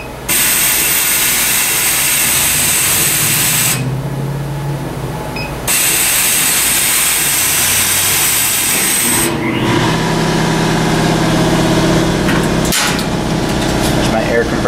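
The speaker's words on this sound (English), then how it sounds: "Compressor kicking on." Air compressor supplying a laser cutter kicks on with a loud, close, steady hiss and motor drone, briefly dropping out and returning, then running on with mechanical knocks and a sharp thump.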